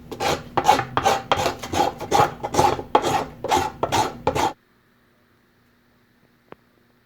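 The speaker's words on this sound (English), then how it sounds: "it's a good idea to quickly go over them with a file" Close, rhythmic rasping strokes of a file smoothing rough edges of cut pieces, about ten quick back-and-forth passes, then the sound stops and silence follows.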